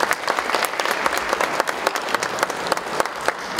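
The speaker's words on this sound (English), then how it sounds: "So let's have a round of applause for the talent." Audience applause at a kids' red carpet film premiere, a dense steady wash of many hands clapping close and loud throughout, with no voices standing out.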